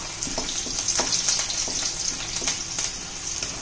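Plenty of garlic sautéing in hot oil for a chicken chilli dish gives off a steady, close frying sizzle with light crackles and occasional stirring scrapes, heard alone without talk.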